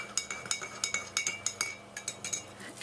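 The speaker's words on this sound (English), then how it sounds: "Let's stir a little." A metal spoon stirs coffee in a cup, giving quick, rhythmic clinks against the sides, about a dozen in a row, close and fairly quiet.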